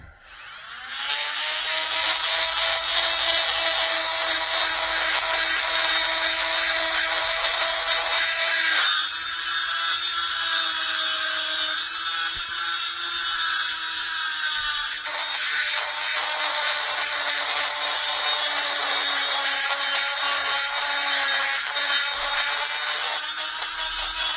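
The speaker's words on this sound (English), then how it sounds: "I'm just gonna grind on it a little bit because it gets really noisy" Steady, loud high-pitched grinding of a rotary tool on the metal cylinder of a Husqvarna 372 XP chainsaw, continuing for a long stretch with slight shifts in pitch, close up and without speech.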